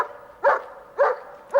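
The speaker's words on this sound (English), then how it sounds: "You can't arrest a dog for barking." A dog gives three sharp barks at a steady, even pace against a quiet background, each bark short and moderately close.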